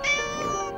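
A cartoon cat in Mr. Bean's animated series gives a single loud, close, drawn-out meow that rises and then fades, with no talking over it.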